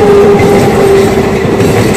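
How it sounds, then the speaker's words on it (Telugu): The Chennai Mumbai Express pulls into platform 3 of a station, giving off a loud, steady rolling rumble with a sustained tone and faint clatter of wheels throughout. "ప్లాట్ఫారం 3లో"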